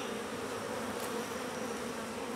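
Honey bees buzz at an open hive in mild weather, a dense continuous drone that holds steady and close for the whole stretch.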